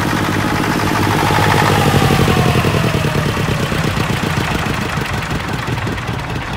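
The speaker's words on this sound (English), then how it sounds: "It's a self-start diesel generator," A 12 kVA self-start diesel generator set runs steadily at close range, a loud continuous chugging drone with a rapid even pulse that holds through the whole stretch, no voices.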